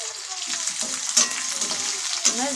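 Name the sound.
stirring onions frying in a pan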